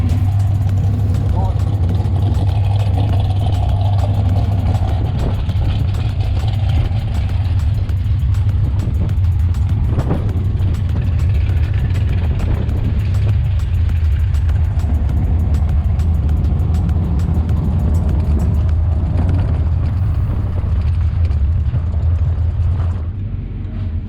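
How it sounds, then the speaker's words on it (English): A bracket racing car's engine warms up at Mokan Raceway with a loud, steady, deep idle that holds close and constant, with faint revving swells and no break in the rumble. "gonna go around and get the car all warmed up here"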